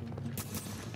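Gunfire in the video game The Division: two short, sharp bursts stand out over a steady low rumble, fairly loud and close, with no other shots in the brief moment.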